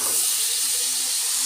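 Small-diced potatoes dropped into hot oil for a Tamil-style potato fry, giving a loud, steady, broadband sizzle and hiss that fills the whole moment with no voices.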